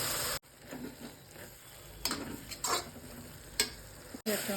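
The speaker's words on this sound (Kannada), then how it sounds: "ಈಗ ಟೊಮೆಟೊ ತುಂಬ ಸಾಫ್ಟಾಗಿ ಚೆನ್ನಾಗಿ ಫ್ರೈ ಆಗಿದೆ." Chopped tomatoes fry softly in a pan for prawn masala, a low sizzle under scraping stirs of a spoon, with brief knocks against the pan and short gaps of silence.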